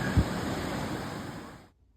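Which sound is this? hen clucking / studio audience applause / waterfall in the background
waterfall in the background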